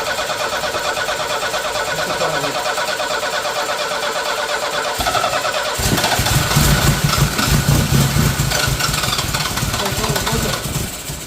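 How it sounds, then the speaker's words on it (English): A project car's engine cranks for several seconds with a rapid churning whir, then catches and runs with a loud, rough rumbling idle close by, with people talking partway through. "Okay, go ahead and try and start it."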